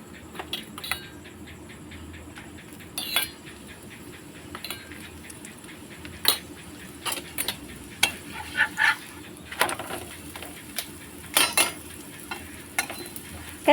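Spiced parathas frying in a little oil on a tawa give a soft, low sizzle, broken by scattered scrapes and light clinks of a spatula or spoon against the pan.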